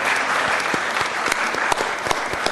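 An audience at a San Francisco Board of Supervisors meeting claps for about two and a half seconds. The applause is dense and steady, with sharp individual claps standing out near the microphone.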